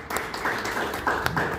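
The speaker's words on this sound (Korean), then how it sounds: "고생해주신 두 분의 발제자께 다시 한번 박수 부탁드립니다." An audience applauds two presenters at a public forum on Ansan city planning, giving a short, dense burst of clapping that stays steady for under two seconds.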